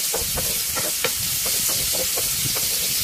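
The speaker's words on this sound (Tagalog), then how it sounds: "isauté na po natin yung ating onions" Onions sautéing in hot oil in a frying pan for a Filipino monggo dish, a steady broadband sizzle with repeated scraping stir strokes about every half second, close and loud, with no talking.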